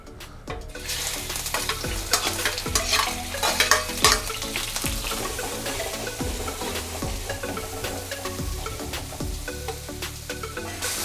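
Cuttlefish and squid fry in hot oil in a wide paella pan, stirred with a steady scraping of the utensil under a constant loud sizzle; no one speaks.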